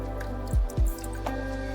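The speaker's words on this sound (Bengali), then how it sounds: "মোচাটা ভালোভাবে কষিয়ে নিয়ে সেদ্ধ করে রাখা ডালটা দিয়ে দিতে হবে, সাথে দিয়ে দিতে হবে অল্প একটু জল" Boiled lentils and a little water go onto sautéed banana flower in a pan, giving two quick wet plops close by, then a fainter squelch against a steady low kitchen hum.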